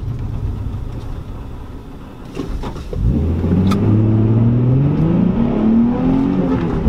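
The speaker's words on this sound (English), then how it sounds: "We're going to do a first gear pull." A Nissan 350Z engine with a cold air intake idles, then revs hard and climbs steadily in pitch as it accelerates in first gear, loud and close.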